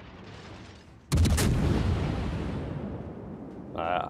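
A warship's main guns fire in World of Warships, a single sudden heavy boom that rolls and fades over a few seconds, with a short spoken remark at the end.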